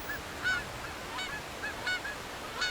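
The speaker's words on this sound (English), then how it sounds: "with only the call of wild geese to disturb the silence" Wild geese call out across a quiet, landlocked Scottish loch, giving several short honks at irregular intervals, moderately distant against a hushed background.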